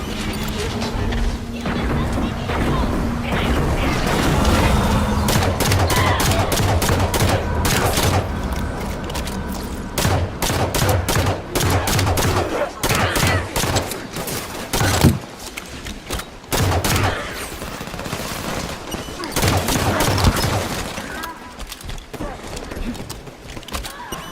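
Heavy gunfire in a Halo 5 battle: dense volleys of rapid shots and crashing impacts pile up close and loud, with brief gaps between bursts.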